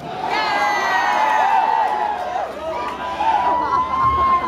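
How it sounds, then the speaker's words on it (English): A concert crowd at a rock show cheers and whoops loudly for several seconds, voices shouting together with a rising swell toward the end. "And you cheer for that."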